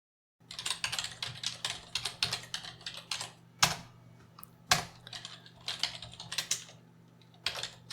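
Code is typed on a computer keyboard in quick bursts of crisp keystrokes, with a few louder clacks and short pauses between runs, close and alone with no talk.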